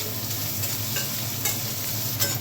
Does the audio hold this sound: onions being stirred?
yes